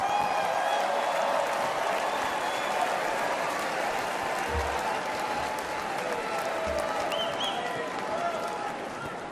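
A large Republican National Convention crowd in 2024 applauds and cheers as the Speaker of the House is introduced: a dense, steady roar of clapping and voices that holds for several seconds, then eases slightly toward the end.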